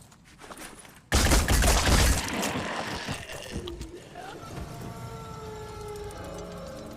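Gunfire in the game Phoenix Point: after a quiet second, a sudden loud burst of rapid shots lasts about a second, then fades into a ringing, echoing tail.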